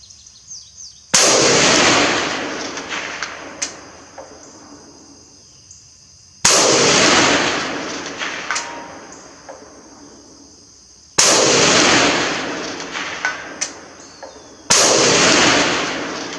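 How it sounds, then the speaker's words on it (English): Imbel FAL 5.56 rifle firing outdoors in humid, foggy conditions: four loud, sharp shots spaced a few seconds apart, each with a long echoing decay into the distance and some faint background noise. "Okay, there's some shots."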